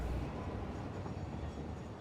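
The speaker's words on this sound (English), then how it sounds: "Train shows up." A train pulling into a loading platform in the factory-building game Satisfactory, a steady low rumbling rail noise filling the short stretch without talk.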